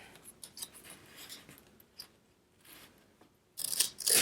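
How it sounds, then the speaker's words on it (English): Scissors snip during a craft repair, a series of short, light cuts spread through a quiet space, followed by a louder burst of rustling and clattering near the end. "Where are my scissors?"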